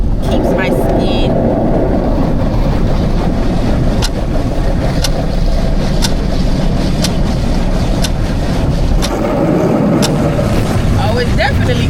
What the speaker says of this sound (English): Oh, it's definitely cleaning the car.